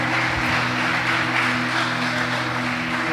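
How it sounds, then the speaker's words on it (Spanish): A church congregation applauds during a sermon, a sustained wash of clapping heard over a steady low hum in the room, even in level and fairly loud. "Un aplauso,"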